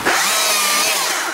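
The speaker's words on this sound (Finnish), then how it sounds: "laitetaan saha käyntiin ja lähdetään puuhaamaan" A Stihl MSA 220 C battery-electric chainsaw runs at full speed, a loud, close, steady high-pitched motor whine with no engine rumble.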